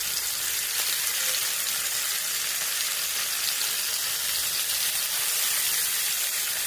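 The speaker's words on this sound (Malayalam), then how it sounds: "വെളിച്ചെണ്ണ ഒഴിച്ചെടുത്ത് ഇനി നമുക്ക് ഓരോരോ ചെമ്മീനായിട്ട് എടുത്ത് വെക്കാം" Prawns fry in coconut oil in a pan, giving a steady, close, loud sizzle with bright crackling hiss that runs continuously without pause.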